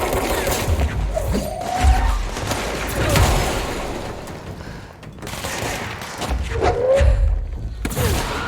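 Grenade blasts in the video game Control land as heavy low thumps amid ongoing gunfire, two big booms a few seconds apart with sharp cracks and a shouting voice over the chaotic firefight.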